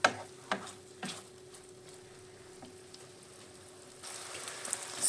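A few soft scraping taps of a utensil stirring cooking oil in a pan over a faint, steady sizzle, with the sizzling growing slightly louder toward the end.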